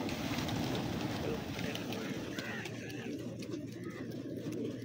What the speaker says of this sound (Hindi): दो कबूतर इकट्ठे